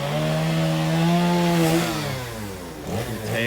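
Chainsaw carving a log into animal figures at a carving site near Keystone and Mount Rushmore, the engine droning loud and steady with pitch shifting as it bites into the wood, then easing and revving again.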